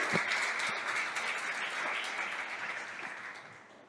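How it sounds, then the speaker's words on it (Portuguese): A church congregation applauding during a sermon, a dense wash of many hands clapping together, fairly loud and steady, then fading slightly toward the end. "Você pode aplaudir o Senhor?"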